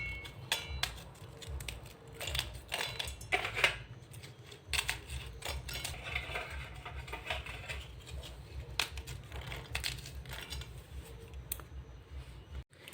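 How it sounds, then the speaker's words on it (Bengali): Biscuits being crushed by hand in a mixing bowl give a quiet, steady run of crunching and clicking that continues for several seconds. "এখন বিস্কিটগুলো এখানে দিয়ে গুঁড়ো করে নেব।"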